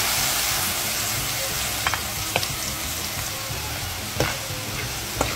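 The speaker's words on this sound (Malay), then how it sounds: "Bawang putih kita tumis sampai dia terbit minyak sikit" Onion and garlic sautéing in oil in a pan after dried stingray was fried: a steady, dense sizzle with occasional sharp pops and stirring scrapes, close and continuous.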